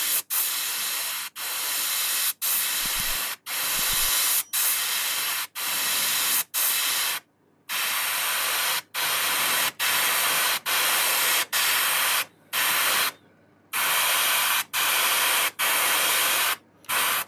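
Crimson paint is sprayed onto a handmade fishing lure in repeated hissing bursts, each lasting around a second with brief silent gaps between them, close and steady in level.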